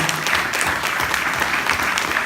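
Audience applause at a short-film awards ceremony, steady, close and fairly loud clapping from a room of people, continuing evenly throughout without speech.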